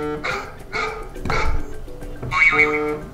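Four sharp, electronic-sounding dog barks repeat at a steady pace, loud and close, like the looping Bark ringtone played through an iPhone 11 Pro Max speaker.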